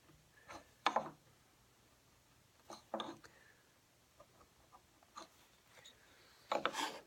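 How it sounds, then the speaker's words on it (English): A pencil scratches dovetail layout lines against a dovetail saddle on wood. Short, faint scribbling strokes come in separate bursts with quiet gaps between them, close and soft. "I'm going to use my dovetail saddle again, using the 1/6 side to draw my lines"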